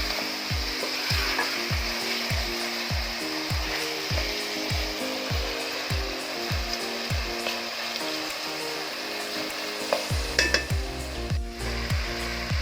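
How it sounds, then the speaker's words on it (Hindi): Chicken karahi for an Afghani restaurant-style dish fries steadily in a pan, a constant sizzle with regular rhythmic scraping strokes of stirring, close and alone without talk. "देखिए इसको मैं मुसलसल फ्राई कर रही हूँ।"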